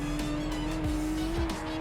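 A race car in the Project Cars 3 video game, driven flat out, gives a steady, close engine drone with brief tire squeals and skids breaking through.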